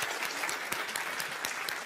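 A TV game show studio audience claps in a steady burst of applause, dense and lively with sharp individual claps standing out, no talk over it.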